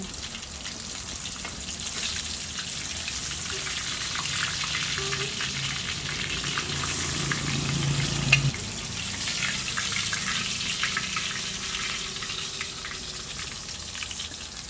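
Banlog fish deep-frying in hot oil for a sweet and sour dish, a loud continuous bubbling sizzle that persists for the whole stretch with faint clatter, close up and without speech.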